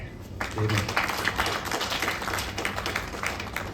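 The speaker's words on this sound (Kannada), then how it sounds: "ನಮ್ಮ ನಿರ್ಮಾಪಕರಿಗೊಂದು ಚಪ್ಪಾಳೆ" A crowd breaks into applause, a dense burst of clapping that continues steadily for a few seconds.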